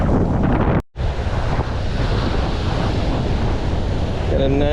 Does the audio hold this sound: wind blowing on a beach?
yes